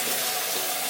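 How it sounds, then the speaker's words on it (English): Cold tap water pours steadily into a bowl for soaking sausage casings, a loud continuous rushing splash lasting about a second with no talking. "Put some cold water in there"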